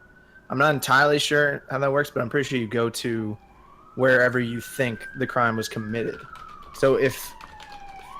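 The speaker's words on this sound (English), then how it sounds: "sorry for the sirens" Emergency vehicle sirens wail in the background, rising and falling under near continuous close talking.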